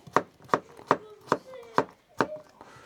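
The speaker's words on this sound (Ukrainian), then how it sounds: "зараз ми швиденько ріжемо нашу картошечку" A knife chops potatoes on a board in six or seven crisp, evenly spaced strikes, close and clear, with a faint voice underneath.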